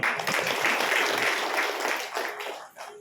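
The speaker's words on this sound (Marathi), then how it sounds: "म्हणून तुमच्या सगळ्यांसाठी एकदा टाळ्या वाजवा." Audience applause at a closing lecture session, a dense, steady burst of many hands clapping that holds for a few seconds and then fades out.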